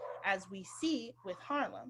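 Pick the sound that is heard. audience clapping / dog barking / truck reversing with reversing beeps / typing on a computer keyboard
dog barking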